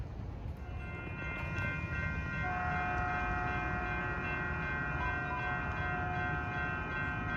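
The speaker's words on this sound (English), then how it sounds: "Ah yes, the Nathan P2 horns." A Caltrain train sounds its Nathan P2 horn, a sustained multi-tone chord that rings out for several seconds over a steady rumble of the moving train.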